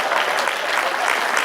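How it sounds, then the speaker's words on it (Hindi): Dense applause from an audience at a Hindi poetry gathering, a thick continuous burst of clapping with no gaps across the short stretch. "तालियां ढंग से बजाओ।"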